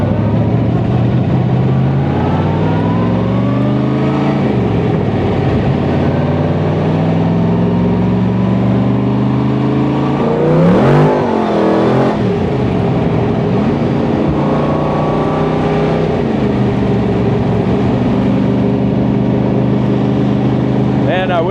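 The engine of a Beck Lister Corvette Lightweight, running a freshly installed motor being broken in on a street cruise at sunset, drones loudly and steadily from inside the car, with rising and falling pitch as it accelerates and shifts.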